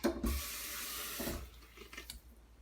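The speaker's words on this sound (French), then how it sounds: "Je rajoute encore un petit peu d'eau." Water pours from a tap into the bowl of a Companion cooker, a brief hissing splash that fades after about a second, followed by faint trickles and drips, close and quiet.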